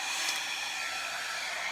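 A hair dryer blows steadily across poured resin in a Dutch pour, a continuous close, even airy whoosh with no break.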